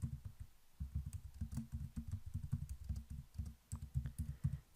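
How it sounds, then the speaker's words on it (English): Someone types on a computer keyboard while entering items in Microsoft Word, producing a quick, close run of light key clicks in bursts with one brief pause near the start. "And I'll type another longer item here."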